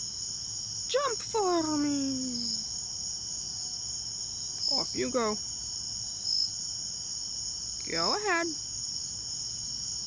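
Crickets chirp steadily as a continuous high, even trill in an outdoor setting, with a person speaking softly in short phrases over it.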